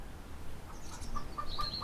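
A rooster crows faintly in the background outdoors near a treehouse, a distant call under low ambient noise.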